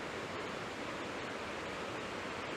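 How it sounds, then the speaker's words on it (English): Steady, dense rush of water from a small waterfall on a Dartmoor stream, heard close and continuous with no pauses, voices or other sounds over it. "there's some little whirlpools created by the waterfall just further upstream"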